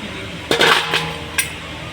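An 8 mm socket working bolts loose from the engine head of a Splendor motorbike, a few sharp metallic clinks and knocks close by, with quiet gaps between them.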